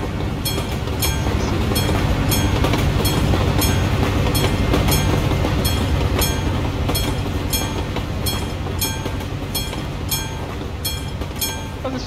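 A train in Euro Truck Simulator 2, a loud continuous rolling roar with a steady clickety-clack of wheels over rail joints repeating evenly throughout, close by and without voices.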